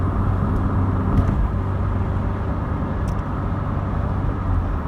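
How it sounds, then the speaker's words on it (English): A Ford Focus overtaking a truck on a road, heard from inside a 1986 Mk2 Vauxhall Cavalier; a steady loud roar of road and engine noise with no talk. "Look at that Focus going for it, trying to get around that truck."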